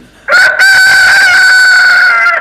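A rooster crows loudly and close by in one long, sustained cock-a-doodle-doo that fills the whole moment, with no talking over it.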